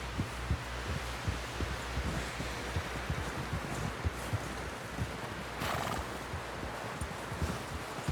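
A horse in the video game Red Dead Redemption 2 during a snowstorm, with steady rhythmic hoof thuds plodding along under a constant roar of wind.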